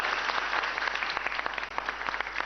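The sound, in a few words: audience applauding a quiz team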